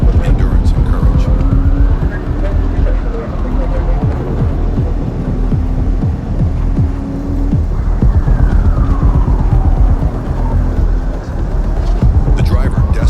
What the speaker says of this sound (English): a black sedan roars into view